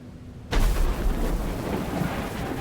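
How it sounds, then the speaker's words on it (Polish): A thunder strike in the video game Hello Neighbor 3 breaks in suddenly after a quiet moment, a loud, broad crash that rolls on as a sustained rumble to the end, with no talk. "I teraz dopiero piorun walnął"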